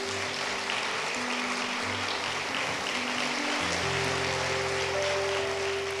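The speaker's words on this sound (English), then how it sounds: "Let's give them a round of applause." Audience applause at a public library reading event, a steady, dense wash of clapping from a seated crowd held at an even level throughout, with a faint low hum beneath.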